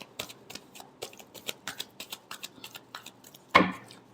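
Tarot cards are shuffled by hand in a series of quick, crisp riffling snaps at an uneven rhythm, ending with a louder final card riffle, close and quiet with no talking.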